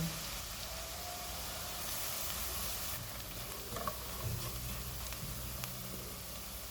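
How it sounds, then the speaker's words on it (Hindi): Two tablespoons of maida roast in a pan over low to medium heat after garlic for a cheesy potato bake, giving a steady, even hiss with a few faint stirring clicks. "2 टेबलस्पून मैदा डालेंगे, इसको 2 मिनट तक भूनेंगे"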